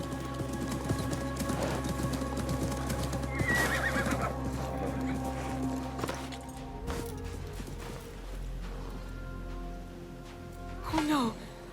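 A horse in an Assassin's Creed game set in Abbasid Baghdad whinnies and stamps its hooves, with game voices talking over it, rain and birds in the background, and a sharp neigh near the end.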